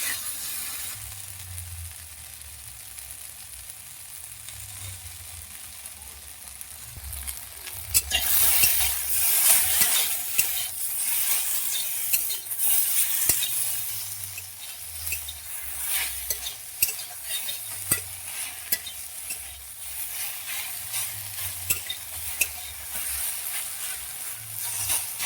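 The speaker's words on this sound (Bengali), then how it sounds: "ভালো করে এটাকে আমি ভেজে নেব লাল করে।" Food frying in a pan with salt and turmeric until reddish, a continuous sizzle under frequent spatula scrapes and stirring clatter, busier in the middle and steady throughout.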